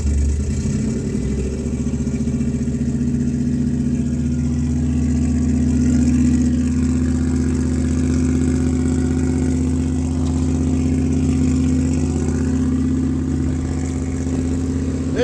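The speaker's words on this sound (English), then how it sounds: "it cranks, turns over," A car engine cranks and fires up on the key, then runs loudly and steadily close by with a deep, continuous drone and slight revving swells, no voices.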